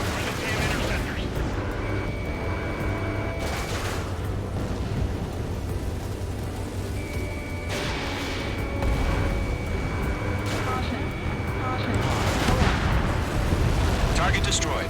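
Anti-aircraft guns firing in the video game Ace Combat 7: a dense, continuous barrage of rumbling flak and rapid gunfire with periodic heavier bursts, heard under radio chatter throughout.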